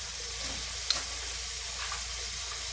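Minced garlic sautés in a hot pan for bistek Tagalog, a soft steady sizzle with light stirring scrapes and a sharp utensil tap near the start.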